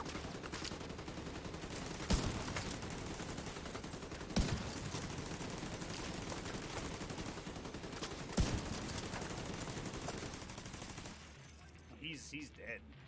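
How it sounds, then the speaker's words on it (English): Gunfire in The Division 2 crackles through a dense, continuous game soundscape, with a few sharp louder shots standing out at intervals before the noise drops away near the end. "Is he shooting at me?"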